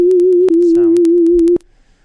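Synthesized tone with added even and odd harmonics hums steadily at one pitch for about a second and a half, then cuts off into near silence.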